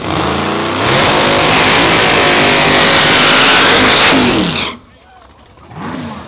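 A car roars past at a nighttime street race, a loud engine surging and sustained for several seconds before cutting away abruptly, followed by brief quieter background with faint voices.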